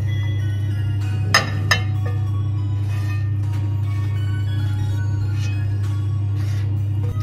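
Cooked leeks are folded into a tart filling seasoned with nutmeg. Two quick clinks of a utensil against the bowl come early, followed by soft, faint stirring over a steady low hum.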